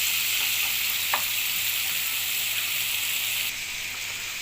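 Onions frying in oil in a pan, a steady close hiss that runs the whole time with a few faint clicks and no talk.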